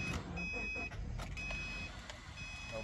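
A 2010 Subaru Forester engine idles steadily just after starting, with a dense low rumble and a high electronic tone running through it.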